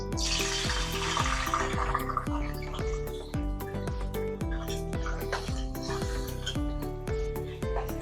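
Chopped onions fry in hot ghee in a pan for a Hyderabadi veg dum biryani, a steady close sizzle running the whole time beneath louder rhythmic background music.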